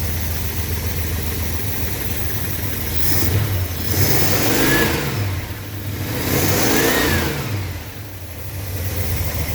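The engine of a 1966 Chrysler New Yorker, parked for 18 years, runs steadily up close and rises and falls in a few gentle revs over a constant idle.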